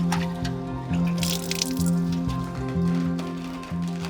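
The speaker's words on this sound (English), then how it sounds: "they rinse, dye, and wring out handfuls at a time." Handfuls of wet dyed feathers wrung out by hand for shuttlecocks, giving repeated squelching squeezes and a stream of close water drips and splashes, with a faint low hum underneath.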